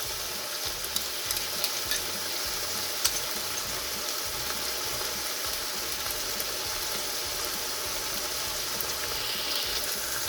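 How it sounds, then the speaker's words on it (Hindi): Spices and tomato puree stirred in a kadhai for kadhai chicken, giving a steady, close sizzle with soft scraping from the spoon throughout. "इन सभी को हम मिक्स करेंगे।"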